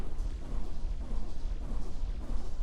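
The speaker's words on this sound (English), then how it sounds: "I am seeing the explosions kind of launch them around a little bit." Explosions in a video game that fling enemies around, heard as dull, low rumbling booms that follow one another closely without a break and with no speech.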